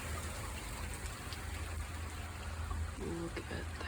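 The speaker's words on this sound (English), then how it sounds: "Oh my god, large hail." Large hail pelting down during a hailstorm in Portland, Oregon, a steady dense patter and rush of impacts filling the whole stretch, with a brief faint voice near the end.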